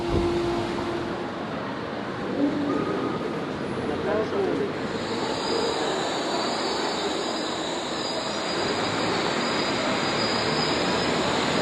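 Riding aboard the Wuppertal Schwebebahn suspension railway, a steady rumbling of the car with high squealing wheels, continuous and close, with people talking over it.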